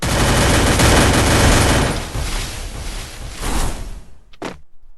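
Loud, dense bursts of rapid gunfire and heavy grenade blasts in Free Fire pound continuously, then thin out into a few scattered shots and sharp cracks near the end.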